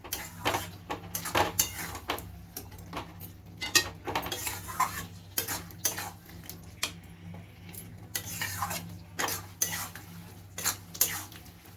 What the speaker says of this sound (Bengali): দিয়ে আমি এটাকে আরও ভালো করে 2 মিনিট কষিয়ে নেব।